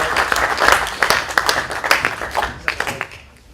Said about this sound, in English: Can you give Rachel a clap